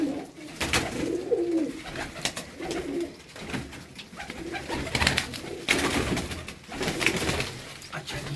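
Pigeons on a rooftop loft in Faisalabad coo in repeated low, rolling calls with scattered clicks and rustles, close and fairly loud, with a voice faintly in the background.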